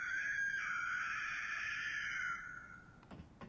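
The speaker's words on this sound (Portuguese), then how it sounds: "Igualzinho ao original, também tem o grito medonho." A creepy high scream from the Bloodborne PS1 demake video game holds as one long shrill wail for over two seconds, then fades out into quieter game noise.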